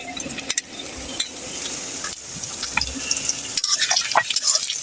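Ginger, garlic and cumin paste frying in a hot pan, giving a steady loud sizzle with occasional scraping stirs and small pops throughout.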